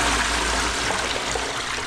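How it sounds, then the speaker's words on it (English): A blocked toilet is flushed, giving a steady, loud rush of water that pours continuously through the whole stretch with no other sounds. "Just give it a flush."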